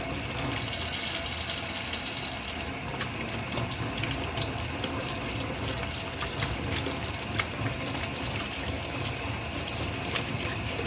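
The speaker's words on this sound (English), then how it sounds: "so just give it a very quick rinse like that." Water runs steadily from a tap as a Dyson V15 Detect vacuum filter is rinsed under it. The splashing flow is continuous and close, with no talking.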